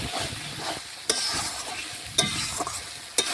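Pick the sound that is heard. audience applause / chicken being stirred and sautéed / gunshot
chicken being stirred and sautéed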